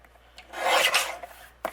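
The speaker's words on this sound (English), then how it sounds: "So let's trim this down." A single short pass of a paper trimmer blade slicing through card stock, a dry rasping scrape close to the microphone lasting about a second, followed by a small click.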